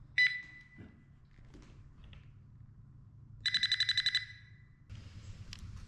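An electrical voltage tester gives a short beep, then a rapid pulsing run of bright beeps, over a low steady hum with some faint handling noise.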